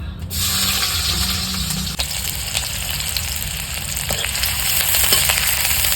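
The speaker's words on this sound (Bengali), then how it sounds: "তেল গরম হয়ে গেছে। এখন এই পেঁয়াজটা দেবো তেলে একটু।" Onion drops into hot oil and fries, opening with a loud hiss and settling into a steady, close sizzle and crackle throughout.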